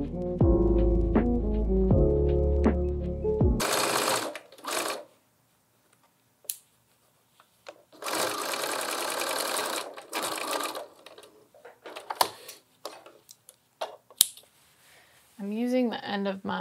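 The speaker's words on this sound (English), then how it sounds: "I'm going to use a 3/8 inch seam allowance to sew these side seams. And I will be back stitching at the start and end." A home sewing machine runs in bursts while stitching the side seams of a lined tote bag with backstitching at each end, with short pauses between runs and some speech and handling noise in between.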